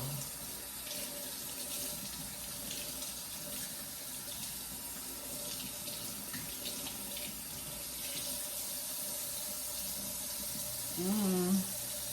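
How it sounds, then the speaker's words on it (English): Tap water runs steadily into a kitchen sink while raw roast beef is rinsed under it, a constant close splashing hiss, with a brief voice near the end. "I'm about to rinse my meat. Okay, so I'm gonna rinse it off."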